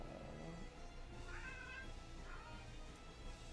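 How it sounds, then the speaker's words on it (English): A cat meowing indoors, two drawn-out plaintive cries, faint and somewhat distant, with no talking. "my cat's making a lot of noise all of a sudden"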